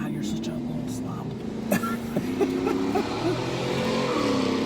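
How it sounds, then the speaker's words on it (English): Car road and engine noise coming through open windows, a continuous low rumble under people talking and eating, with a few brief louder passing bumps. "We got car noises."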